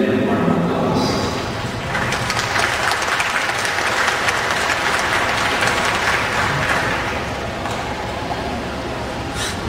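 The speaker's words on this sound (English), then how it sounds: "giving them a warm applause" Guests applaud a newly married couple at a wedding ceremony. Sustained clapping builds and holds for several seconds, with voices and crowd murmur underneath, then tapers off.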